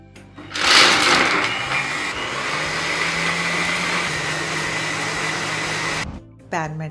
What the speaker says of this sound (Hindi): इसे मिक्सी में डाल के ना मैं बहुत बढ़िया से पीस रही हूँ।